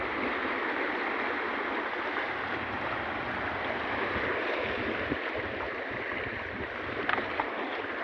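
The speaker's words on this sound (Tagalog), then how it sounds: "Sarap yun tingnan yung mga alon guys." Ocean waves wash continuously onto a rocky beach at San Isidro, Leyte, a steady broad rushing surf with no talking.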